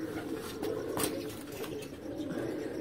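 On a rooftop loft, pigeons kept in pairs such as a golden bird with a Teddy female give low, rolling coos, faint and continuous, with a few light chirps scattered through.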